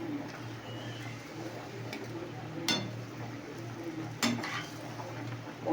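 Fish being stirred with mustard paste in a cooking pan, with a couple of brief metallic clinks of the utensil against the pan over a quiet low hum.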